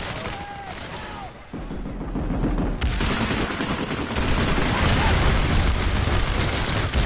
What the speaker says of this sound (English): There was an explosion that killed me.